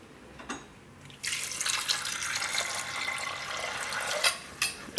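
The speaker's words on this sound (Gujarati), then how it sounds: "તો આમાં આપણે નાખી દઉં થોડુંક પાણી." Water pours steadily into a pressure cooker holding washed pigeon peas (tuvar dana) for a Gujarati methi shaak, a broad continuous rush lasting about three seconds, preceded by a soft splash and ending with a couple of drips.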